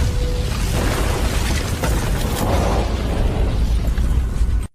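A bomb explosion in a film fills the scene with a loud, sustained rumbling roar and crackling debris that holds steady for several seconds before cutting off abruptly.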